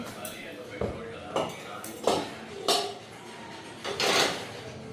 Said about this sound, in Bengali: প্রেশার কুকারে ডাল বসাই